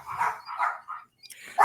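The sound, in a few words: dogs barking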